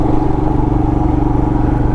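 A 2020 Royal Enfield Himalayan motorcycle on knobby tires rides an off-road trail over small rocks and bumps, its engine thrumming loud and close in a steady pulsing rhythm with no talk.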